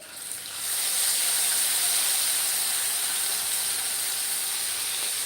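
Green ginger-chili paste hits hot oil, bursting into a loud hiss after about a second that holds steady as a dense close sizzle to the end, with no voices.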